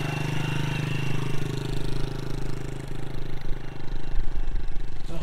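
A mini cafe racer motorcycle pulls away in first gear, its small engine putting out a steady, buzzing drone with slight throttle fluctuations, fairly loud and continuous.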